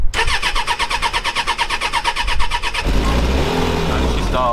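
A motorbike engine is kicked over with a rapid rhythmic cranking chatter for nearly three seconds, then catches and settles into a steady running idle, close and fairly loud.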